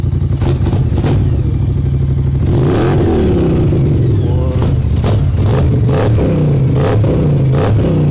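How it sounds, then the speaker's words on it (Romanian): A 2025 Polaris Sportsman XP1000 S ATV with a cold engine is gently revved, idling close by and then rising in several short throttle blips that fall back to a rumbling idle. "stai aici că accelerez eu. Dar ușurel așa, că e motorul rece, gen."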